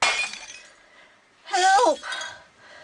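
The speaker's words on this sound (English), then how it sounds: "the first sign of her rescuers were when she had the sound of broken glass" Glass smashes in a sudden loud burst of breaking and clinking shards partway through, standing out against a quiet room with faint movement before and after, during a rescue.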